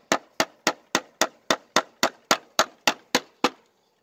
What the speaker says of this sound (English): Just nailing stuff in.